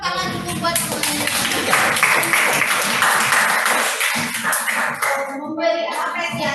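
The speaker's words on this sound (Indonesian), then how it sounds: "kasih tepuk tangan dulu buat semuanya" A classroom group claps steadily together in a dense burst of applause lasting several seconds, close and loud, with a few voices mixed in.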